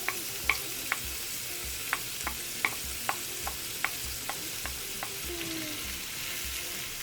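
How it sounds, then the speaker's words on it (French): Courgette frying in a pan with a spoonful of oil and half a spoonful of butter: a steady close sizzle broken by regular sharp ticks of a utensil against the pan, no voices. "je vais la faire cuire dans une poêle avec une petite cuillère d'huile et une demi-cuillère de beurre. Voilà, je mets la courgette."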